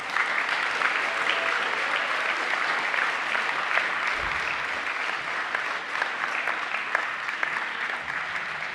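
Loud, sustained applause fills a university graduation ceremony hall as the room cheers the standing science and technology graduates, steady and close throughout.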